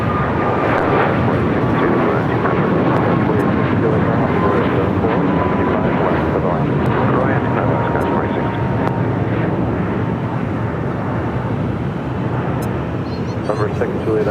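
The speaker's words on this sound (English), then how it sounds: "That was the 737 MAX 8 heading to Mexico City." A Boeing 737 MAX 8 takes off from LAX bound for Mexico City, its jet engines a loud, steady roar that fills the whole stretch without letting up.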